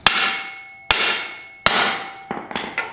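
A hammer strikes a socket to press a bearing cup out of a U-joint. Three loud, sharp metallic whacks each ring out and decay, followed by a few lighter, quicker taps.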